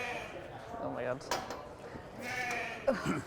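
Sheep bleat at a shearing demonstration during an agricultural show, a few wavering calls rising over a crowded background with people talking nearby.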